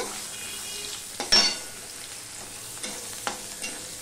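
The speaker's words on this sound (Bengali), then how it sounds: "এবার 4-5 কোয়া রসুন আমি কেটে রেখেছি, সেটা আমি দিয়ে দিলাম।" Long-sliced garlic cloves frying in oil in a pan for a Bengali-style katla fish dish, a low steady sizzle broken by a few sharp stirring scrapes and clinks.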